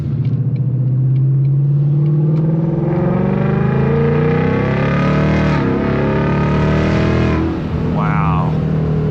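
A car fitted with a Lund E85 tune revs hard under acceleration, its engine note climbing steadily and loudly with a dense, rising drone and a brief shift-like dip near the end, close up and continuous.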